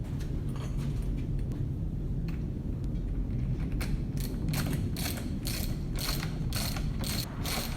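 Spring compressor tightening on the front strut spring of a Porsche 981, a run of close metallic ratcheting clicks that grow louder and more regular as the tool is worked.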